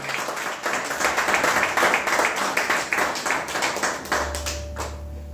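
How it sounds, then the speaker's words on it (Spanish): Rhythmic group clapping from a congregation during a Sunday church service, steady, fairly close claps for about five seconds, with a low hum underneath at the end. "Denle un aplauso al Señor."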